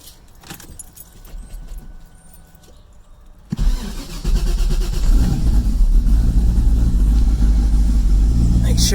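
Car engine with a repaired exhaust cutout flapper: faint handling noises and clinks, then the engine cranks and catches, settling into a loud, steady, rumbling idle nearby.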